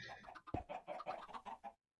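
Video game chickens cluck in a quick, busy stream of short calls, close and moderately loud, ending abruptly in silence.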